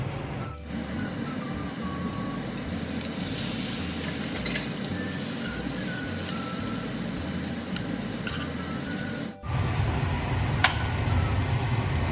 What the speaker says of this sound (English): Now we fry them on medium-low flame.